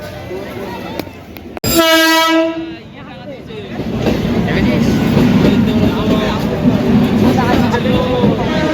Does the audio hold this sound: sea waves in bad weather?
no